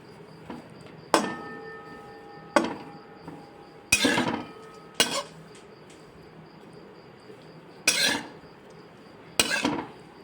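Leftover roti noodles roasting in oil in a pan over a medium flame, with about seven sharp, separate clanks of a spatula against the pan over a faint, steady background.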